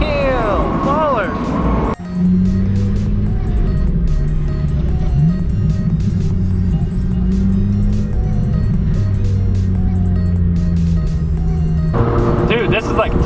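Several Acura RSX Type S cars cruise along a street, a steady engine drone with shifting pitch running throughout, loudest near the start and end as cars pass close, with someone talking over it.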